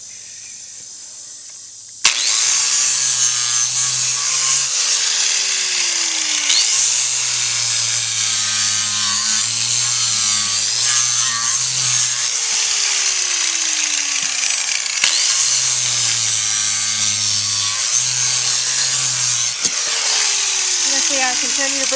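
Nevada power grinder trimming a horse hoof, a high-pitched whirring grind starting abruptly after two seconds and running continuously, its pitch dipping repeatedly as it bites into the hoof, with a voice talking faintly underneath.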